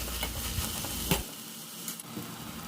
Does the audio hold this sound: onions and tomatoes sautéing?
yes